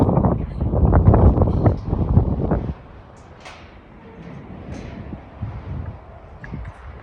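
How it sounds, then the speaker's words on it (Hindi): Cold wind blows on Jungfrau mountain in Switzerland, loud buffeting gusts hitting the microphone for about three seconds before easing into a softer, fluctuating wind. "यहाँ पे बहुत अनबियरेबल ठंडी हवा चलती है"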